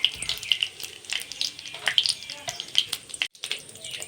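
Whole garam masala of cardamom, cinnamon and cloves frying in hot oil, giving a bright crackling sizzle scattered with sharp little pops, close up and with a brief dropout near the end.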